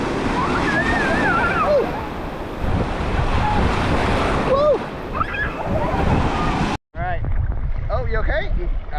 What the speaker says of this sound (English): These waves are gonna make it hard.